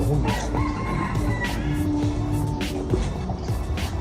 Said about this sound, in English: they have even chickens and hens and stuff